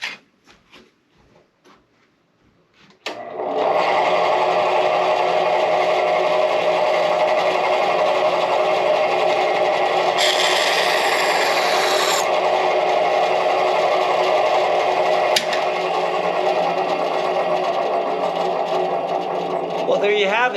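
Bandsaw with a freshly replaced blade starting up and running a test cut, a steady loud whirring drone after a brief click, with a short scraping burst partway through.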